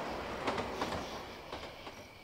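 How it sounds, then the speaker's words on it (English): A train rumbles past in the horror game Yomawari: Night Alone, a steady low roar with faint rhythmic clacks, moderately quiet with no talk over it. "How could it be possible there's a train there?"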